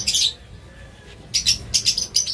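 Bright, high bird chirps in short bursts, one at the start and a quick series near the end, separated by quiet background.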